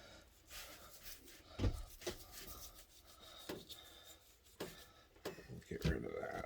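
A knife trims fat off a competition brisket, making intermittent close scraping and cutting strokes with soft thuds, while a person talks over parts of it.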